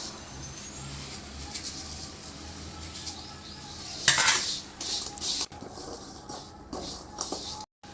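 A utensil scrapes and clinks against a pan in steady stirring of jaggery, with a sharper clatter midway; birds chirp faintly in the background.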